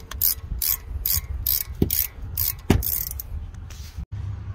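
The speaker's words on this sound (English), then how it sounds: "We'll use a 17 millimeter wrench and take them off." A 17 mm wrench ratchets on brake caliper bolts of a Mazda CX-9 during a brake service, giving quick bursts of close, sharp clicking with a couple of louder metallic knocks and brief pauses.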